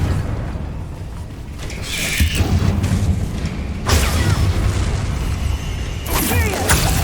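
Fiery spell blasts from the Hogwarts Legacy video game: several deep booming bursts with crackling debris over a rumbling ambient bed, each explosion swelling loud then trailing off, with no talk.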